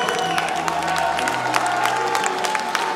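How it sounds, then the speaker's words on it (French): Scattered clapping from a crowd at a bodybuilding competition over music with a sustained tone, the claps fairly steady and moderately loud. "Allez, on les applaudit bien fort,"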